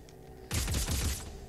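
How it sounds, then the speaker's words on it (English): Burst-fire weapon shooting in Dead Space 3, a single quick burst of several rapid shots that starts abruptly mid-clip and rattles for under a second, loud and close over quiet background hum. "So it's a burst fire."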